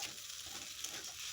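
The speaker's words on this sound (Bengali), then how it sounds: "এবার দিয়ে দিলাম ডিম ভাজাটা। এবার আর একটু ভেজে নিয়ে নেব" Pasta with a fried egg stirred in sizzles in a pan, a soft steady frying hiss throughout with faint stirring, no voices.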